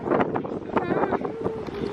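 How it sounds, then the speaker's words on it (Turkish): Strong outdoor wind buffets a phone microphone with a steady, loud rumble and gusting roar beside an ornamental pool at a house, while people speak over it. "Çok rüzgar var."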